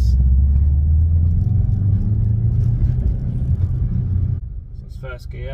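Subaru Impreza WRX STI with a six-speed gearbox and upgraded gear linkage bushes, driving with a deep steady engine drone and road rumble inside the cabin that drops briefly near the end, as with a gear change, under someone talking.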